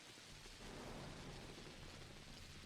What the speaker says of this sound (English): silence intermittent with sounds of rain and thunder